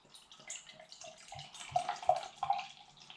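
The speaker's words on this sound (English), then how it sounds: "Grab the glass. Let's get a little pour." Unfiltered Firestone Walker Santa Lucia beer pours from a bottle into a glass, a soft close gurgle with a few rhythmic glugs rising toward the end, no talking.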